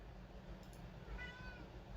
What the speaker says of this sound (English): I apologize for the cat who finally decided to join the rest of the world.